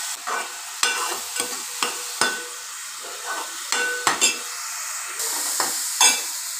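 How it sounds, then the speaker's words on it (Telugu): Sliced onions frying in oil for a Telugu-style fish curry, stirred with repeated scraping strokes through a steady close sizzle, roughly ten sharp spatula hits spaced across the stretch, with no talking. "ఉల్లిపాయ వేసుకుని ఒకసారి ఇలా కలిపేసుకుని"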